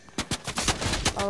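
Rapid bursts of revolver and Tommy gun fire in a Fortnite match, a string of sharp, loud shots spaced unevenly across a short stretch, alone without talk.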